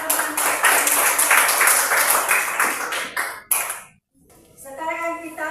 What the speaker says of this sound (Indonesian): tepuk tangan kepada teman-teman